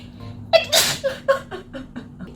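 A woman sneezes indoors: one sharp, close burst followed by a few short breathy exhales and sniffs, with a faint steady hum in the background.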